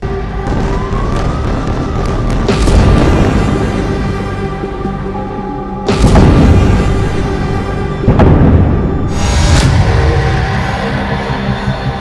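Bomb blasts boom across Tripoli, Lebanon, at night: several heavy, rumbling explosions strike a few seconds apart over a wailing, siren-like tone and a continuous low roar.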